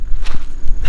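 Footsteps squelching across soggy, waterlogged ground in a Louisiana cemetery, a few soft wet steps close by at a slow walking pace.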